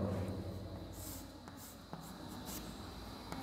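Chalk or pen writing down numbers during an engineering mechanics lecture on coplanar concurrent forces, a run of faint scratchy strokes and taps alone in a quiet room.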